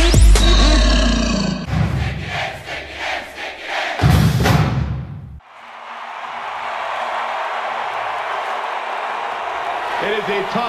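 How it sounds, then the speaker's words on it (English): Roaring stadium crowd at a Virginia Tech football game, a loud sustained wall of cheering voices that swells after a stretch of mixed music and shouting. "The crowd is loud, rowdy, a little rude perhaps on the road team."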